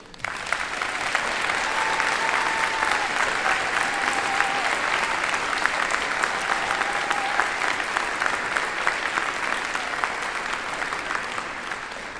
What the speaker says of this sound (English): extending a most deserved round of applause to this college's outstanding group of educators